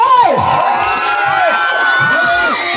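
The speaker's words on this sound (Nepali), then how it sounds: "जोरदार ताली" A live crowd at an outdoor New Year celebration concert cheers and whoops loudly, with high shouting voices rising and falling over a continuous roar of noise.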